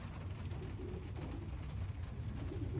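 Faint, soft cooing comes from racing and Birmingham roller pigeons in a loft, murmuring quietly and steadily over a brief stretch.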